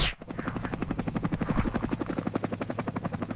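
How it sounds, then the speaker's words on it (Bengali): Cartoon helicopter flying, its rotor chopping in a steady, rapid rhythmic beat with a whirring engine tone, loud and close throughout with no talking. "তোর হেলিকপ্টার এবার নামাবো।"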